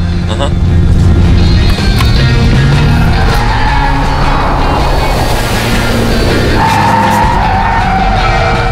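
Hyundai IONIQ 5 N electric car drifting through a corner, a loud continuous roar of tire and motor noise with a sharp squeal near the start, heard close up from inside the cabin.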